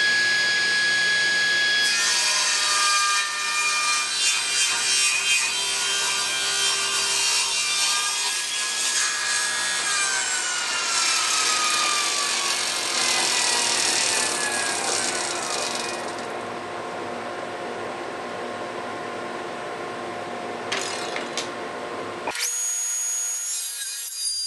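Holly wood pushed through a saw against the fence: a loud, steady cutting whine with rasping wood noise that runs for about twenty seconds, then cuts off abruptly, leaving a quieter motor hum.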